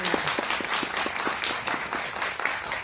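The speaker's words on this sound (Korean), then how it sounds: "큰 박수를 일단 맞이하겠습니다." Audience applause greets the director and cast arriving at a special guest-visit screening Q&A for the film 오후 네시: steady, fairly close clapping with a faint rhythmic pulse running throughout.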